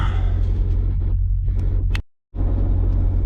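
A Mercedes C55 with an M113 V8, running rich, sits idling: a loud, steady, deep rumble close by, broken once by a brief dead-silent cut before resuming unchanged.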